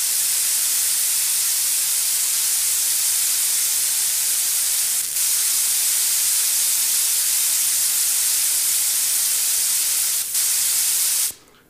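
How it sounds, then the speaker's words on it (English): An airbrush loaded with water sprays in a loud, steady hiss that pulses from a poor airtight seal on its threads, dipping briefly twice before cutting off at the end. "I've just got water in this airbrush. Listen to how it sounds when I spray it."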